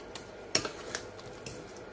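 A utensil clinks and scrapes against a pan as mashed eggplant pulp is stirred, giving a few light, sparse taps over a quiet background.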